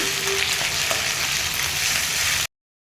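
Bottle gourd leaf paste frying in oil with onion and garlic gives a steady, close, unbroken sizzle that holds at an even level for a couple of seconds.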